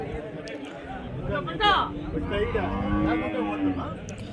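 Cattle lowing at the Chintamani calf and cow market, one clear drawn-out moo standing out above a steady crowd chatter and babble, with further fainter moos nearby.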